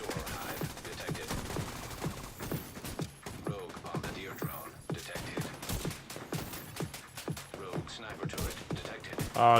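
Rapid bursts of gunfire in The Division 2 video game, with a dense run of sharp shots and fusillades across the whole stretch, mid-level and busy, mixed with mechanical clicks and with talk heard over parts of it.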